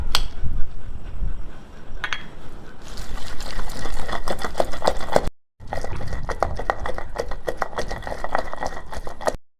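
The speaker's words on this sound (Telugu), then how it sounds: "టమాటా వేసుకొని మంచిగా ఇట్లా నూరుకోవాలి." A stone pestle grinding tomato and red chili chutney in a stone mortar gives a close, steady scraping and rattling rhythm. It runs in two stretches split by a short pause.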